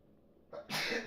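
A single short, sharp sneeze with a quick inhale first, close and loud against a quiet background.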